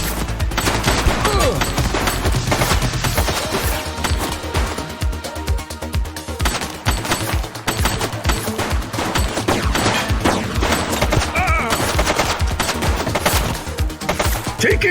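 Gunfire from the police video game The Precinct rattles in rapid, dense bursts, loud and nearly continuous throughout with sharp repeated cracks.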